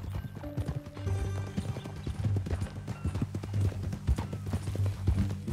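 Horse hooves in Red Dead Redemption 2 clip-clop in a steady, continuous rhythm, close and fairly loud, with a low rumble underneath.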